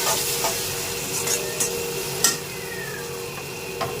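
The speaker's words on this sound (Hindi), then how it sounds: "अभी इसको थोड़ा भून लेती हूँ।" Spices and vegetables are stir-fried in a pan, a soft constant sizzle broken by a handful of scraping stirs of a spoon against the pan.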